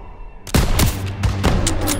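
Burst of gunfire from Call of Duty WWII on Veteran mode, a loud volley after a brief quiet start, followed by sustained, overlapping rifle and machine-gun shots with several sharp cracks through the rest.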